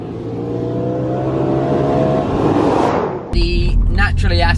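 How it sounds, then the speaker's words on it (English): Naturally aspirated 4-litre V8 of a BMW M3 E92 with DCT revving hard, a rising engine note climbing in pitch before cutting off, then a sharp blip with crackly, loud exhaust bursts, heard from close range. "The naturally aspirated 4-litre V8 is nothing but a joy to rev the nuts off of it"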